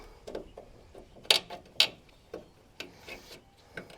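Small screwdriver prying at the metal retaining tab of a tailgate shock on a 2014 Toyota Tundra, giving a series of sharp metallic clicks and scrapes, two louder snaps near the middle, close and alone.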